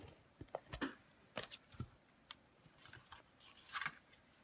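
Scissors snip and trim paper for a handmade pocket gift card, a series of faint, close, irregular cuts and light paper rustles in a quiet room.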